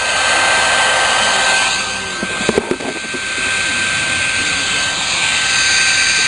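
A heat gun blows with a loud, steady whooshing roar while shrinking heat shrink tubing on a submersible well pump. The blast dips briefly midway with a few clicks and handling sounds, then resumes at full strength.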